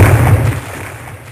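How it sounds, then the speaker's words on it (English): A tank's main cannon fires in a video game, giving a loud, low, rumbling boom that rolls and slowly decays over about a second. "Firing main cannon."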